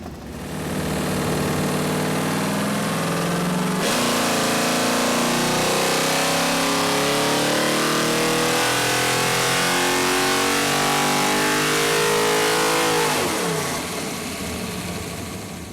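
A GM 572 crate engine on a dyno makes a sustained wide-open pull on a 150-shot of nitrous, roaring loud and steady as the revs climb and then dropping back off at the end.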